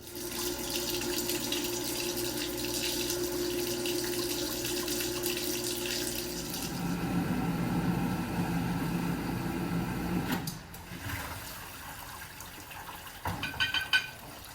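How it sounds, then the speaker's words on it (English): A vintage 1977 Hobart KitchenAid Superba portable dishwasher in its soak and scrub cycle: steady rushing water spray with a low motor hum, which shifts in tone midway and then stops, leaving faint drips and clicks. "now it's doing the soak part of its soak and scrub cycle"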